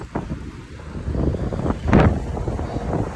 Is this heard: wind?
yes